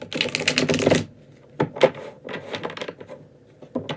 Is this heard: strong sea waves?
no